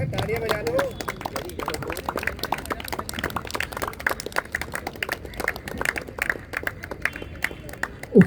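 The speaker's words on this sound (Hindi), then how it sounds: "तालियां बजा दो." An audience at a closing ceremony claps steadily, a dense patter of many hands that keeps an even pace throughout, with a voice audible over it near the end.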